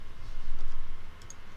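A computer mouse gives a quick double click, two sharp, faint ticks close together over a soft background hiss in a quiet room.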